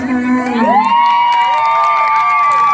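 A crowd at a mor lam stage show cheers and whoops loudly and steadily, with rising shouted voices and a sustained high cry over a dense, continuous roar of the audience.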